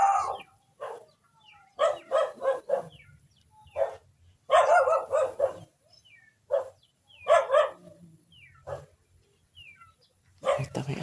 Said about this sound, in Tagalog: Uy, uy, uy, may aso.